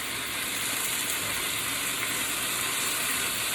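Chicken and cauliflower stir fry sizzling in the pan, a steady bright hiss of frying that holds at an even level throughout, with no talking.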